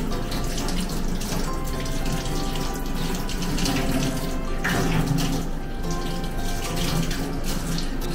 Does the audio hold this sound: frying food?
no